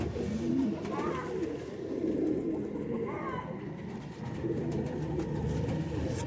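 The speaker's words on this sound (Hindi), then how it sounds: "बहुत ही अच्छे सियालकोटी कबूतर हैं ये काले मुंह वाले।" Black-faced Sialkoti pigeons coo in soft, repeated low calls close by, over continuous background noise and murmuring voices.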